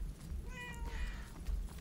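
A cat in the video game Murdered: Soul Suspect lets out a single clear, drawn-out meow, close and moderately loud over low game ambience.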